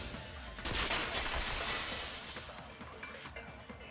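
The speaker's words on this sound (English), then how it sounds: "the girls heard the sound of the window shattering." A window shatters in a video game, Danganronpa 2, in a loud, bright crash, then scattered fragments tinkle and the noise slowly fades.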